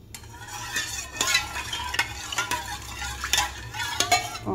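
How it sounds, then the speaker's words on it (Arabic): A spoon stirs a wet mixture into dry ingredients for salted biscuits, with repeated scraping knocks against the bowl at an uneven rhythm, close and moderately loud, with no one talking. "وغنبدا كنخلط"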